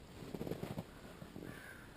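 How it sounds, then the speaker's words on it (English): Several crows caw in a rapid burst of harsh calls while mobbing an owl outdoors near River Falls, then a few more calls after a short pause, moderately distant with no talk. "Crows are still after that owl."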